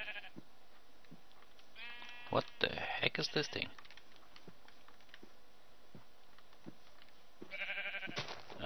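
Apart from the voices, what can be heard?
sheep bleating in modded Minecraft, video game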